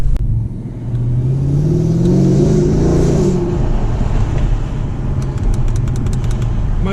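A Mercedes-AMG engine rumbles up close, rising in a revving climb as the car pulls away, then settling into a steady low drone with faint ticking at the end.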